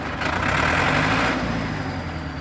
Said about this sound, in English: The engine sounds a bit different, and it has kind of like a helicopter sound.